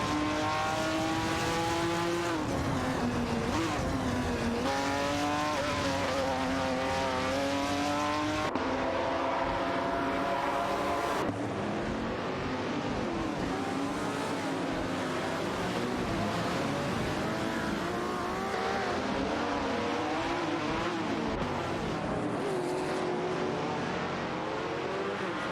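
Race car engines, including a Chevrolet Camaro Z28, drone steadily in a racing video game, with layered engine tones rising and falling as cars shift and jostle for position, loud and continuous with no talking.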